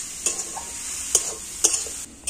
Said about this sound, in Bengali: এবার আমি আখের গুড় আর নারকেলটা খুব ভালো করে মিশিয়ে নেব